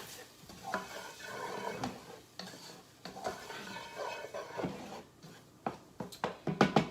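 Red pepper flakes stirred into a pan of food with a utensil, close scraping and clinking against the pan over a soft sizzle, in irregular strokes.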